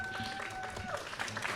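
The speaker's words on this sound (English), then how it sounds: "One round of applause for Dave." A small open-mic audience in Berlin's Lausitzer Platz claps briefly in a quiet, scattered burst, with voices mixed in over the short ripple of applause.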